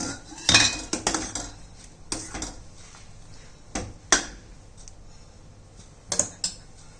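A utensil stirs palak in a pan with a few distinct clinks and scrapes spread over several seconds, sporadic knocks at a moderate level with quiet gaps between them, and no voices.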